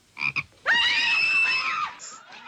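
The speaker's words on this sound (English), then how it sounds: "It's a frog." A frog croaks in a scene from the 1972 western The Cowboys, a couple of short chirps followed by one long, loud, drawn-out croak, then quieter trailing sounds.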